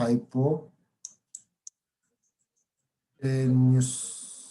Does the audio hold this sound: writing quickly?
yes